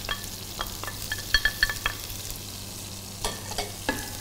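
Chopped onion and halved garlic slices sautéing in butter for cauliflower cheese soup. A gentle, continuous sizzle runs throughout, punctuated by clusters of spoon taps and scrapes against the pan, with a low steady hum beneath.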